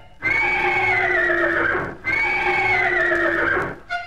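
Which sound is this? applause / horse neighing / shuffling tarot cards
horse neighing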